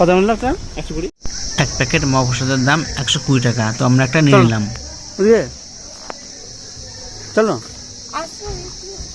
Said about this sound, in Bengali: তোমরা শুনতে পাচ্ছ ঝিঝি পোকার আওয়াজ